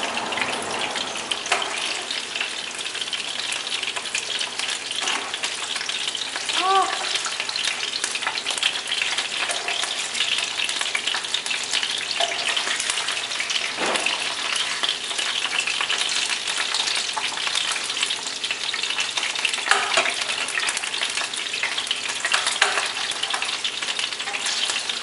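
Salmon fries in a hot pan with a constant loud sizzle and crackle, occasional stirring and scraping sounds throughout, with no talking.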